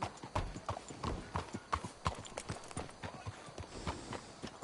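Horse hooves clip-clop steadily and close in the video game Red Dead Redemption 2, a brisk rhythmic walk of sharp hoof strikes with no talk over it.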